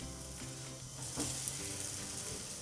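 Liquid dough parantha sizzling in a hot pan, a steady crackling fry with occasional soft spatters, close and continuous, with no talking.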